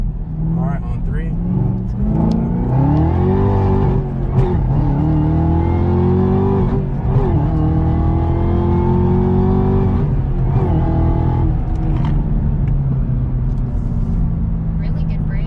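A 700+ horsepower Corvette Z01 accelerating hard on a test drive, engine roar climbing and dropping through repeated gear changes, loud and close from inside the cabin, with people talking and exclaiming over it.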